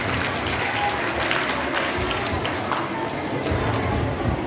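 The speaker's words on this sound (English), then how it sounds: "Give them a huge round of applause for the team Great Warriors." Applause at a National Sports Day gathering for a student team, a sustained, dense clapping crowd with a few faint voices mixed into the steady noise.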